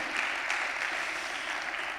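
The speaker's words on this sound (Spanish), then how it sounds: "Aplaude al que suple tu necesidad en este año." A church congregation claps steadily and densely through a sermon, sustained applause filling the room at a moderate distance with no clear voices.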